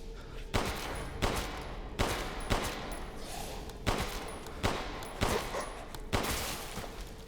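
Gunshots in the video game Resident Evil Village, roughly eight loud sharp reports spaced about a second apart over a steady background hum, no talking.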